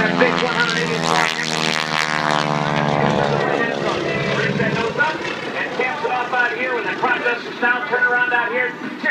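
A vintage biplane's 180 hp engine roars loudly and steadily at an aerobatic show, with a deep throbbing drone that shifts in pitch as it passes close by left to right.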